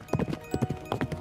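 Horse hooves clip-clopping in quick uneven bursts as the animal gallops away from an old haveli on a dark night, fairly close and fading slightly, with faint background hum.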